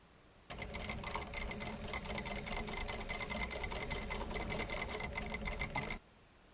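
A sewing machine stitches a fabric seam in a steady, rapid mechanical rattle that starts abruptly, runs evenly for about five and a half seconds, then stops cleanly, with no voices.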